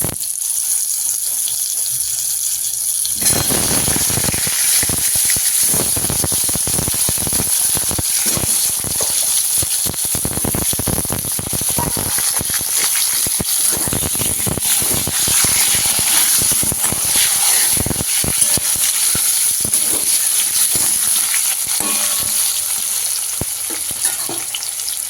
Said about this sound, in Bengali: আলুগুলোকে সুন্দর করে একটু ফ্রাই করে নেবো লাল লাল করে